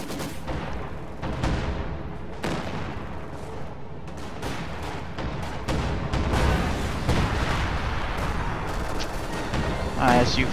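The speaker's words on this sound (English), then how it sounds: "ISU firing" Game gunfire and heavy shots, ISU tank destroyer cannon fire among them, in a real-time strategy match, with a caster talking continuously over the dense battle noise.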